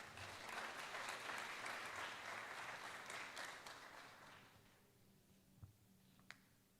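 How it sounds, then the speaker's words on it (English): An audience applauds a speaker being welcomed to the stage at the opening of a university English competition, dense sustained clapping for about four seconds before fading out, followed by a couple of faint knocks. "Please give him a warm round of applause."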